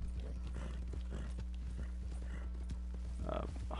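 Horse hooves clip-clopping in Red Dead Redemption 2, a steady faint trot under a low game hum, with someone talking over it and a brief louder sound near the end.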